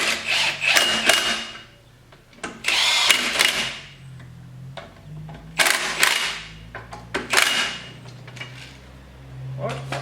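A power gun whirs in several short bursts, snugging up bolts on a VW T4 bus in a workshop, close and fairly loud, with brief pauses and a low hum between bursts.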